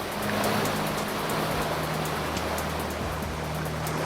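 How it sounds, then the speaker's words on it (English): Rushing white water churns around a kayak in a strong river current, a dense continuous roar of splashing and surging water at close range. "Just that little bit of white water is enough to flip me in."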